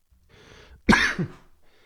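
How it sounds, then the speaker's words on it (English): A single harsh cough close by, followed by a shorter second burst, with quiet breathing before and after. "Much off-camera coughing, and we're back."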